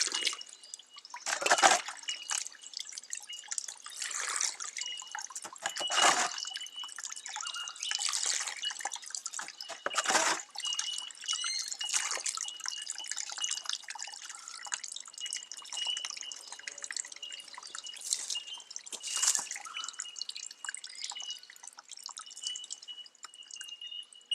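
Water drips through a filter during pre-filtering to clarify water, with steady close drips and trickles at an uneven, fairly quick rhythm and a few louder splashes, heard alone.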